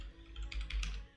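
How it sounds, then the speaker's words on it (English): Keyboard typing during a Planet Zoo game session, a few soft clustered key clicks with dull low bumps as hands knock a nearby microphone, close and quiet with no talk. "I keep hitting the microphone as I'm typing."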